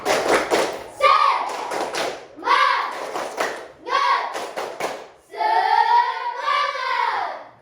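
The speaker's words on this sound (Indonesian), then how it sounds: "mari kita tepuk semangat dulu. Tepuk semangat" A sixth-grade class performs a rhythmic clapping chant, sharp bursts of unison hand claps alternating with loud chanted children's voices in a repeating pattern.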